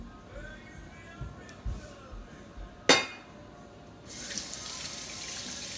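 A kitchen tap runs while hands are rinsed under the water, starting as a steady loud rush near the end, with a sharp clink and soft knocks from dishes before it; background music plays faintly.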